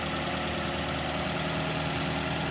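A Toyota GLi car that had an overheating problem runs steadily after having an engine fitted, with a continuous mid-to-low idle rumble and faint regular ticking, close and alone without talk.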